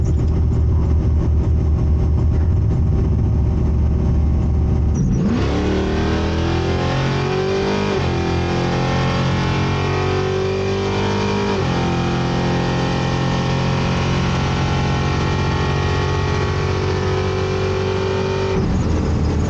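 1982 Chevrolet El Camino at a drag strip: engine idles, then launches and revs hard through rising gear pulls, each shift dropping the pitch before climbing again, loud and close, ending in a lift off the throttle.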